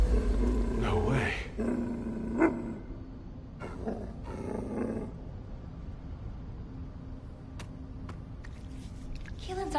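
A dog growls in the video game The First Descendant, a low rumbling snarl near the start that then fades under voices and game ambience.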